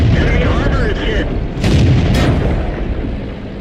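Tank cannon shots from the World of Tanks video game, with T-14 rounds bouncing off the M6's angled armor: loud booming blasts over a rumbling battle bed, with two sharp bursts close together midway.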